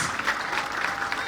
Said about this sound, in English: Let us clap for our president.